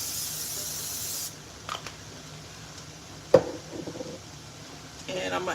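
Cooking spray hisses into a frying pan in a short steady burst at the start, followed by faint clatter and a brief sharp knock near the end.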